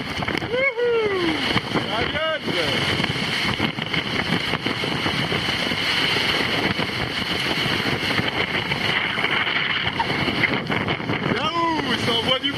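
The Vendée Globe racing yacht Virbac-Paprec 3 rides strong wind and waves in the Southern Ocean, with constant roaring wind buffeting the microphone, hull slaps and water rushing and splashing, while a voice speaks briefly over the din.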